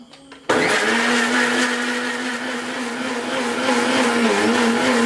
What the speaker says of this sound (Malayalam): ഇനി നമ്മളിത് മിക്സി അടിച്ച് ജ്യൂസ് ആക്കി കൊണ്ടുവന്ന് തുറക്കാം